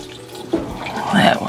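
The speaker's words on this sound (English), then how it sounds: "I'm just gonna make sure the drains are flowing." Water poured into a home furnace drain during a maintenance tune-up, a short, close splash and gurgling trickle that starts abruptly and builds.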